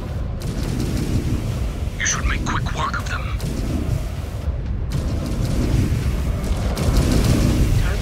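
Game combat in MechWarrior 5: rumbling weapon fire and booming explosions from battling mechs, including PPC shots, run steadily throughout at close range beneath a radio voice and commentary.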